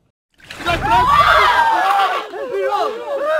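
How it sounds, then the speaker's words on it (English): A crowd bursts into loud, overlapping shouting and yelling nearby, rising quickly from silence and staying dense before breaking into scattered excited cries. "Who asked you to bring this crowd on this holy land?"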